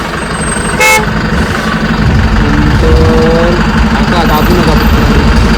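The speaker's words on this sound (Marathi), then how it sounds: "ट्रॅफिक जबरदस्त आहे. सॅटर्डे त्यामुळे खूप ट्रॅफिक आहे इकडे." Heavy road traffic in Mahabaleshwar on a busy Saturday, with a loud, close vehicle horn blast near the start, further horn toots later, and a constant rumble of idling engines throughout.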